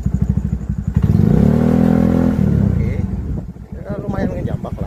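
A motorcycle fitted with a Naraku Racing ignition coil idles with a rapid, close putter, then is revved gently into a rising, sustained roar that falls back to idle, with someone talking over the end.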